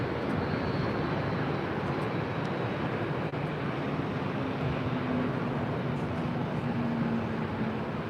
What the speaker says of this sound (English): Southwest 2283 coming in from Oakland, California on a 737-700.